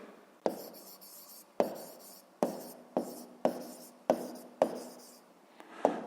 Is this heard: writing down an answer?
yes